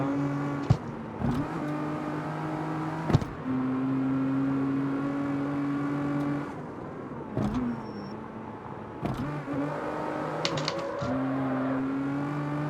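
A Lamborghini engine in the street-racing game CarX Street drones steadily with rising and falling revs and occasional gear-shift breaks, close and continuous, with no talking.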